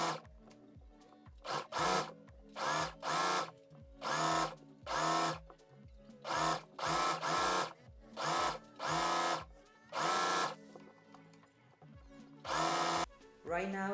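A sewing machine stitches a folded hem in short repeated bursts of whirring, about a dozen runs separated by brief pauses, close and clear with no talking.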